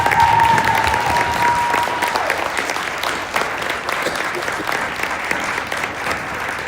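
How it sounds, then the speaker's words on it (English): Audience applause at The Amazing Shake 2026 competition, a steady crowd of clapping hands that fills the whole stretch with dense, even patter and a faint tone near its start. "can we give them a round of applause for all of these?"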